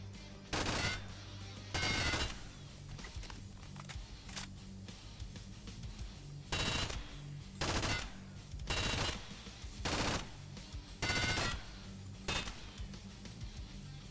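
Repeated bursts of automatic gunfire in the shooter game Contract Wars 2.0 (Hired Ops), several loud rapid volleys at irregular intervals with quieter ambient game noise between them.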